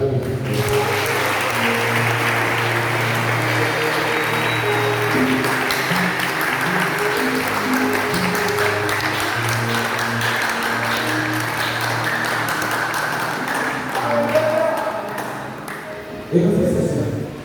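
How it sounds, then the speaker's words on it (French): A church congregation claps in long, sustained applause, a dense steady wash of hands with held musical tones beneath, easing off near the end. "Est-ce qu'on peut applaudir?"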